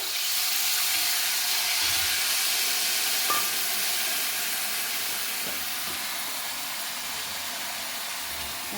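Tamarind juice poured into a hot mustard seed and peanut tempering for puliyogare, giving a steady, loud sizzling hiss that slowly eases off, with no talking.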